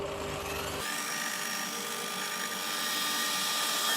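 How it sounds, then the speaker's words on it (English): A drill bit bores a small hole through a folding knife's handle scale, giving a continuous high, steady whine that holds unbroken from start to finish with no talking. "I'm going to drill out the little hole in the handle."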